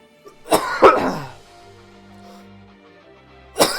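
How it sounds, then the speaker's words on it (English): A person coughs, with two sharp, close bursts in quick succession, then a quiet stretch of low background hum before another cough begins at the end. "I don't know why I'm coughing right now."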